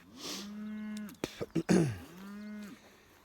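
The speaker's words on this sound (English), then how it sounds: "We'll see how the cows handle it." Cattle on a grazing paddock low twice in long drawn-out moos, fairly close, with a few short throat-clearing or coughing sounds between the calls.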